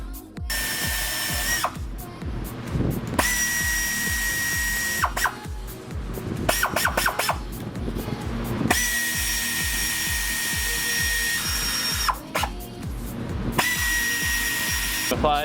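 A power tool driving bolts into a timing chain cover on an Audi B6-B7 S4, loud close whirring bursts of several seconds each with a ratcheting clatter, separated by short pauses and clinks of handling.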